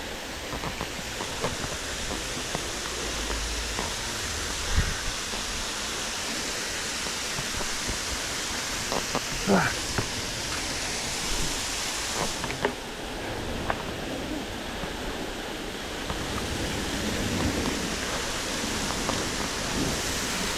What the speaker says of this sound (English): There's the waterfall at Millikin Falls.